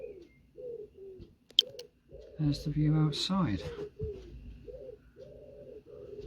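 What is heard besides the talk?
pigeons cooing outside the window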